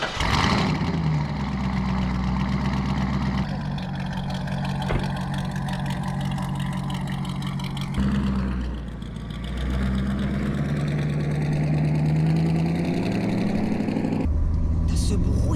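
A Corvette C5 V8 rumbles at idle with a deep, heavy, truck-like throb, steady and loud throughout, while people talk over it.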